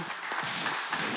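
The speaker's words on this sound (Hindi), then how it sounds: "सब ताली बजाकर बधाई दे उनको।" A church congregation at a Hindi service applauds to congratulate someone, a brief burst of scattered, fairly quiet clapping.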